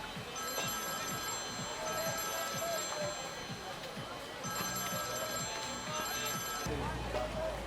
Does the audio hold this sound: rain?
no